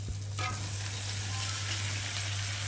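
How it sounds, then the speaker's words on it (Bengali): Loud, steady sizzling of chicken being fried down in a spice paste, no potatoes added, with a brief stir or clatter near the start and a low hum underneath. "আর এখন আমি এই যে চিকেনটাকে দিয়ে ভালো করে কষিয়ে নিই।"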